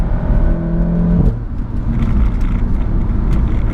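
A 400 HP RevoTechnik big turbo Audi A3 2.0T on a track revs hard, then a quick upshift about a second in drops the pitch before the engine pulls loud and strong again, with wind and road roar close by.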